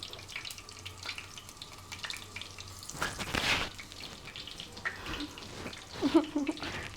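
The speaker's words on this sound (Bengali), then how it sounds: "এখন পেঁয়াজুটা ভেজে নিব" Onion fritters (peyaju) fry in hot oil in a home kitchen, a soft, uneven sizzle with brief louder bursts as batter hits the oil and occasional utensil clicks.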